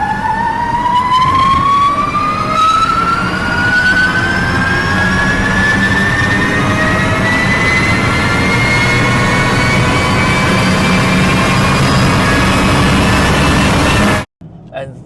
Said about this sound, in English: I'll show you a piece of sound that's from an EV that resonates with even, I think will resonate with even the most hardcore petrol heads.